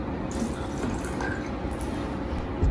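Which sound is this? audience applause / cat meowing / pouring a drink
pouring a drink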